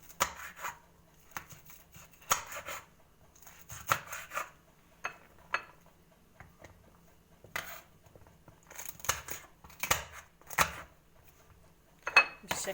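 A knife cuts peppers for pickles on a board in a home kitchen, giving sparse, close, uneven chops and scrapes separated by quiet gaps, with faint sounds of handling in between.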